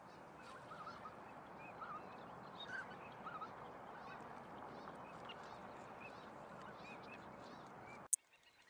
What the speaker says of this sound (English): But perhaps the most majestic of all the wintering waterfowl are the snow geese.